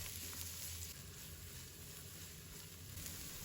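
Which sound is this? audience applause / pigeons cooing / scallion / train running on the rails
scallion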